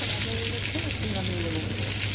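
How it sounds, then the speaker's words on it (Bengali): Chanda fish frying in hot oil, a dense, steady sizzle that runs close and even throughout while faint voices murmur underneath. "তেল গরম হওয়ার পরে মাছটা এরকম দিয়ে দেবেন, দিয়ে মাছটা ভালো করে ভেজে নেবেন"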